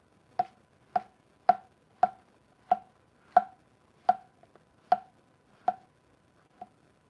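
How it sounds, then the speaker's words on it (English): A knife cuts butter bolete mushrooms into big pieces, giving ten crisp, evenly spaced thuds on a board, close and clear in a quiet room, with a few faint small taps between them. "Cutting pretty big pieces too."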